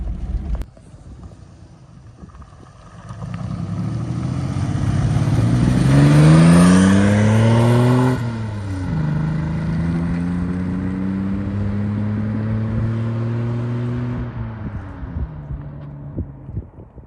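Mitsubishi Pajero engine pulling under load while driving, a loud sustained drone with rising and falling engine pitch as it accelerates and shifts, with wind noise throughout.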